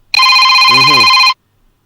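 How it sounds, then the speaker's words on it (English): A telephone rings loudly and close during an interview, one steady electronic ring of about a second, with a voice briefly heard underneath it. "The phone ringing."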